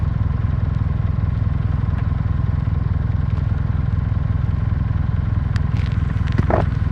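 A Kawasaki W800 motorcycle on a long ride, its engine producing a steady, loud, evenly pulsing thump under road and wind noise, with a brief clatter near the end.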